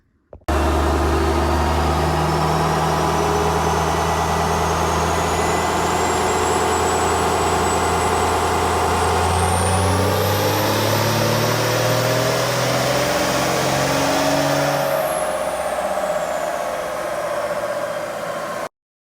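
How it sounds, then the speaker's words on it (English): A 12-valve diesel truck engine roars steadily at high load on a dyno for the whole stretch, loud and continuous, with a rising high-pitched whine partway through. "I'll throw in a clip of this truck on the dyno"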